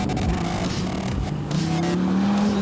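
A 2013 SRT Viper's engine drones heavily and steadily while driving, its low growl rising in pitch toward the end as the car accelerates, loud and close with no voices.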